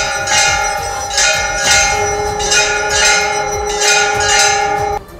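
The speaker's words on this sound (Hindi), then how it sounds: "इस दौरान मंदिर की घंटियां लगातार बजती रही।" Temple bells at the Ram temple ring continuously in rhythmic, evenly spaced swells of bright metallic clangs whose long tones overlap, loud and steady with no talking.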